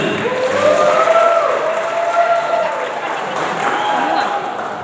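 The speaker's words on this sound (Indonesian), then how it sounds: "Ya, penonton, coba beri tepuk tangan semuanya." An audience applauds at a Qur'an recitation quiz final for young women, a steady clapping wash lasting throughout, with voices and tonal sound over it.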